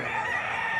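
A rooster crows in one sustained, strained call, fairly loud and close, with a steady raspy tone and no other sounds around it, at a poultry market in Padre Garcia, Batangas.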